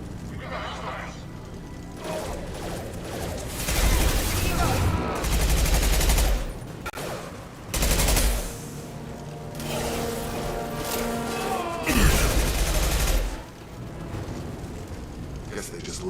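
Blue Suns mercenaries fire bursts of gunfire in Mass Effect 2, with loud rattling volleys that come and go over about sixteen seconds, mixed with game voices and combat noise.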